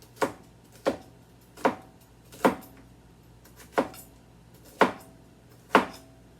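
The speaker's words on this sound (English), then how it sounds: "All right, let's keep chopping these up." Food is chopped on a kitchen board with a knife, seven sharp, evenly spaced thuds less than a second apart, close and clear with no talking.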